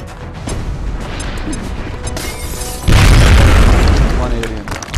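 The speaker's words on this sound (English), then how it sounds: "And so now I need to use the grenade" A grenade goes off in the XCOM strategy game: after a stretch of busy game sound with a voice over it, a loud, heavy boom bursts in and rumbles on before slowly fading.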